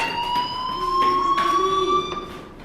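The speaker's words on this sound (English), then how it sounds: "Hey, do you hear that fire alarm?" Fire alarm ringing in the Life is Strange video game, a loud continuous electronic tone with pulsing bursts, heard alone without talk.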